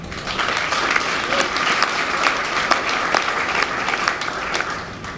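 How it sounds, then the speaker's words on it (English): Sustained applause from a meeting audience fills the room as a dense, even wash of many hands clapping together, with a few claps standing out more sharply. "we have to give ourselves a round of applause for that"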